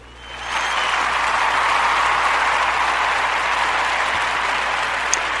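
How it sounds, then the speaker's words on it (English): Sustained applause from a studio or live audience swells in after a brief quiet start and holds steady and loud, a dense wash of clapping hands with no voices over it. "I appreciate the applause"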